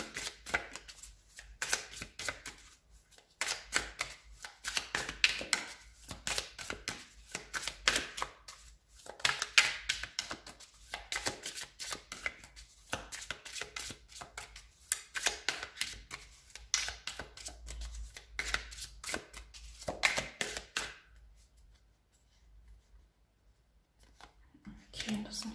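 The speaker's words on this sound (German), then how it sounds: "Ich werde auf diese beiden Karten noch 2 Karten" Tarot cards laid down and slid across a table in a quick run of soft, crisp slaps and shuffles, close by, dying away near the end.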